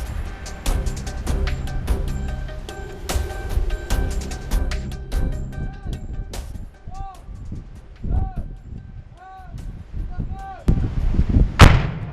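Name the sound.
explosion of a demining charge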